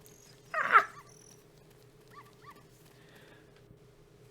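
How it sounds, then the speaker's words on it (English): Dogs in Zelda: Ocarina of Time at Hyrule Castle: one loud burst of yelping barks near the start, then two brief faint whimpering yips, all over a steady low game-music hum. "Get back, dogs, get back! They're coming for treats."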